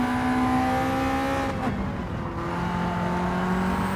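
A race car engine in a racing video game drones steadily from inside the cabin, its tones shifting slightly as the car shifts and changes speed.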